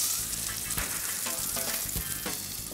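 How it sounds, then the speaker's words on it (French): Chicken ballotines pan-fry in butter with a steady, close, loud sizzle and crackle, broken by a few soft stirring or shifting clicks throughout. "On va poêler en premier."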